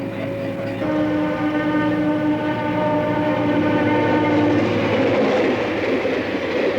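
A train rolls past with a sustained multi-tone whistle blowing loud and close, the steady horn chord fading into the rumble and clatter of the passing cars.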